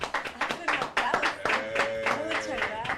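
Studio audience applause on a Chilean television debate program, a dense run of clapping with voices talking over it throughout, moderately loud and close.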